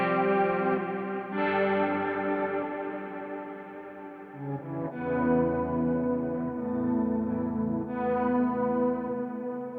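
Guitar played through a BOSS GT1000CORE with an octave effect adding a faint higher octave, sustained strummed chords with chorus-like shimmer and echo, moderately loud and steady, with no talking.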